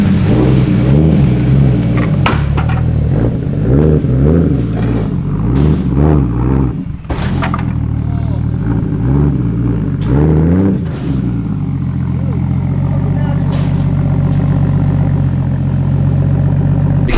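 An engine-swapped car revs repeatedly on a dyno, loud engine roaring up and down in a series of pulls before settling into a steady rumble.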